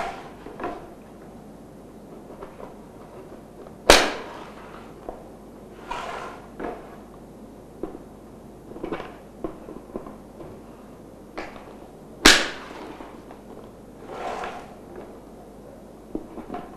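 Weight hoop sections (WH-03) snapping together, giving two sharp, loud clicks a few seconds apart over a quiet background with faint handling noise.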